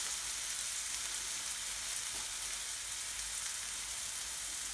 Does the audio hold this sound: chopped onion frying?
yes